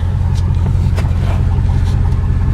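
A straight-piped project truck engine idles steadily close by, a loud continuous low rumble with a pulsing exhaust throb and no talk over it.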